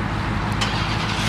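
A small, light manual car's engine runs with a loud, steady low rumble close by for a short moment, with no distinct start event and no talking.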